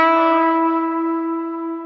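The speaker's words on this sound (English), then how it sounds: "And the bend sounds like this." Electric guitar string bend on a single sustained note, bright and harmonically rich with effects and reverb, ringing alone and slowly fading.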